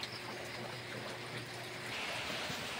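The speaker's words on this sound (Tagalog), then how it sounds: "walang katapusang ulan dito sa bayan ng Esperanza talaga" Steady rain and running water in Esperanza, Agusan del Sur, a continuous broadband wash like a flowing stream that holds even in loudness and swells slightly toward the end, with no voices.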